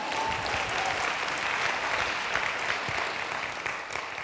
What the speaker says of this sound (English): You can clap for that if you'd like.